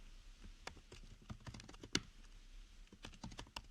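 Fingers type on a computer keyboard in a quick, irregular patter of faint, close key clicks with one sharper keystroke in the middle.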